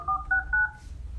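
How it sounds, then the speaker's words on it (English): A phone number is dialed on a telephone keypad, three clear touch-tone beeps in quick succession, close and alone. "Adam, I'm about to call you right now."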